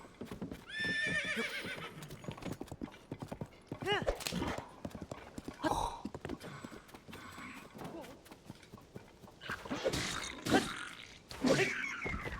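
Horse hooves clip-clop along with a loud whinny and snorting in the video game Zelda: Tears of the Kingdom, repeated bursts over steady low noise, with a few brief voiced sounds mixed in.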